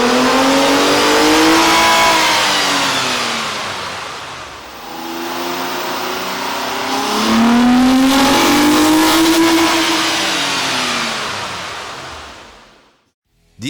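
A 2009-2013 Nissan Maxima 3.5L engine with a K&N air intake revs on a dyno, climbing loudly, easing off, then surging again in a second long pull before cutting out.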